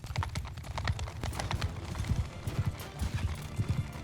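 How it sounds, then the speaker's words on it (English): Cavalry horses galloping in the video game Mount & Blade II: Bannerlord, a dense, continuous patter of hooves thudding at a steady running rhythm, loud and close with a busy battle backdrop and occasional faint voices. "All the cavalry just following me now, both sides."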